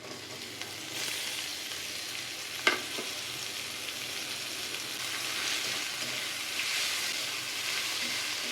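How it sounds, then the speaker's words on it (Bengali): Potato, papaya and carrot frying in a pan with chopped ginger, garlic, cardamom and cinnamon for a spicy meat roll filling, a steady moderate sizzle with one sharp scrape near the middle. "লবণ দিয়ে ভেজে নেব"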